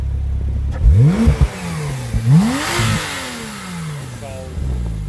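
A 2019 Porsche 911 Turbo S Exclusive Cabriolet engine is revved in several quick throttle blips, each rising sharply and falling back to a low idle, close and loud, with a shorter rev near the middle.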